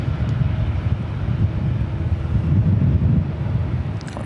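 A jet airliner near LAX drones as a steady low rumble, fairly loud and continuous, mixed with breezy wind noise and no voices.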